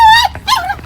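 A dog lets out two close, high whimpering yips in quick succession, each sliding downward in pitch, with a short pause between them.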